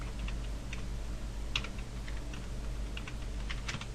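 Rapid, quiet clicking of a computer keyboard as MAXScript code is rewritten, with uneven bursts of keystrokes over a steady low room hum.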